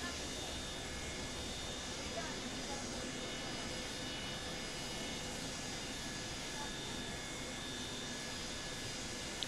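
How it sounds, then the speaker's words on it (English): Steady, even roar of a Boeing 727 tri-jet's three engines in Microsoft Flight Simulator, droning continuously at a moderate, distant level with a faint high whine on top. "this is a tri-star jet. One engine on top, two engines at the back."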